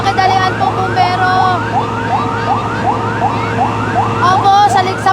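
A fire truck heads to a big fire near Talisay in Villar City, Las Piñas. Its siren wails close and loud in steady repeating sweeps over a rumbling engine, with voices faintly underneath.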